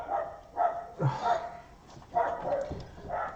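A pet dog wound up by children outside barks and yips in a handful of closely spaced bursts, fairly near and moderately loud, with short whiny tones between barks.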